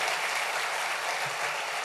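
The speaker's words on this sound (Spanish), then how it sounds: "Dale un fuerte aplauso al Rey bendito." Steady, sustained applause from a church congregation fills the room, dense and even throughout with no break.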